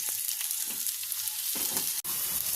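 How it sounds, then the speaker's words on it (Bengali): Onions frying in fully heated oil in a Bengali kitchen, a steady close hiss and crackle running throughout with one brief dropout near the end, no voices. "তেল পুরোপুরি গরম হয়ে গেছে, পেঁয়াজটা হালকা ফ্রাই করব"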